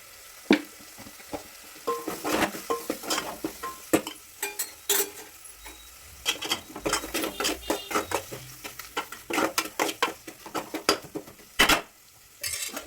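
Stirring with a spoon in a pan in a home kitchen, two tablespoons of chili powder going in for sambar: a string of close, sharp scrapes and taps of utensil on metal, irregular and fairly loud, over a faint sizzle.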